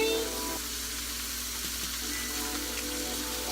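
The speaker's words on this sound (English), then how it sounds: "I'm going to go ahead and let that saute" Butter and fresh rosemary sauté in a pan with a steady, close, even sizzle that holds without a break throughout.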